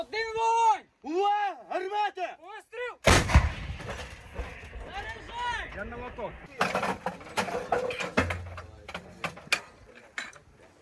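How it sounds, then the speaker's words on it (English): An American-made M777 howitzer fires at the frontline in Ukraine, one heavy, sharp blast followed by rumbling echo and further sharp cracks, with voices speaking before and around the shot. "witnessed the firepower of an American-made howitzer 777"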